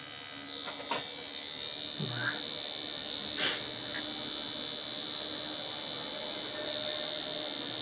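A four-needle permanent makeup machine buzzes in a steady, quiet electric hum, with a few faint clicks and small knocks around it.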